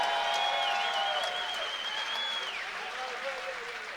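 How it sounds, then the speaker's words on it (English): Applause for two fighters after a mixed martial arts bout, a broad wash of crowd clapping that fades gradually, with a voice talking over it at the start. "how about a nice round of applause for these two great fighters"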